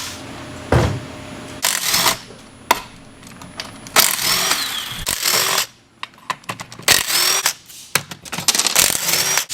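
An old Ridgid impact gun zips out the 10 mm bolts on a Cummins transfer case, giving repeated short, loud bursts with brief pauses between them, close up.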